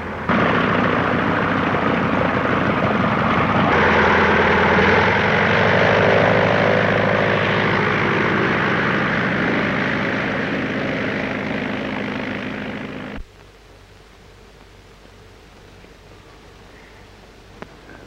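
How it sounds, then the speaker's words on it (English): A propeller plane drones loudly overhead, a steady roaring engine hum that holds for several seconds, then drops away abruptly to a quiet background. "Get the number of that plane."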